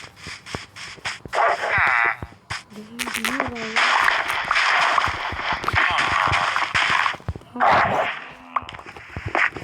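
A dog barking in Minecraft, heard as short in-game barks and yips mixed with a person talking over the gameplay throughout.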